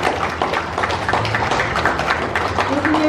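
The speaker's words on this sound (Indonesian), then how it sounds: "kita siapkan tepuk tangan yang meriah dari Pusat Studi Spiritualitas CB" Applause from an audience at a Catholic Eucharist service blessing and inaugurating a spirituality study centre, a dense, steady patter of clapping that holds for the whole stretch with a faint murmur of voices mixed in.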